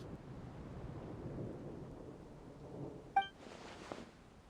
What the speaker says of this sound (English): what was with that thunder just now? It came out of nowhere and it's not even raining.